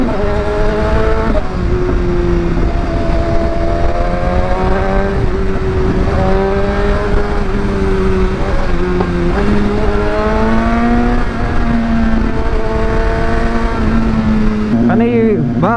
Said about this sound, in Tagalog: Ano yung backfire lang ng bike na to.